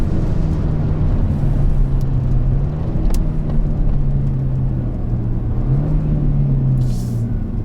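A Kia Stinger GT at speed on a race circuit, its engine a loud, continuous droning rumble whose pitch rises and dips as it accelerates through corners, with no voices.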